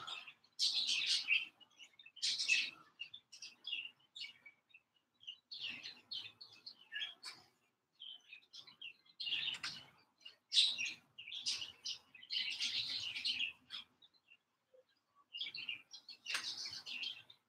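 A pet bird chirps and tweets in short, bright bursts with brief pauses between, fairly close and alone in a quiet room, with a few soft flutters of wings.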